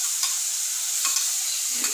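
Onions sautéing in a pan for paneer gravy give a steady, close sizzle with soft stirring scrapes, no voices over it.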